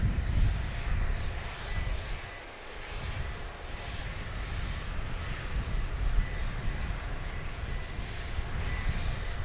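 Aircraft engine noise at Dublin Airport, a loud continuous broadband roar with a deep low rumble that dips briefly and then swells steadily again, heard alone without talk.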